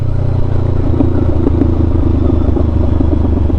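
Loud, steady engine drone of a habal-habal motorcycle taxi on the road, close and continuous, with light clatter from the ride and no talking.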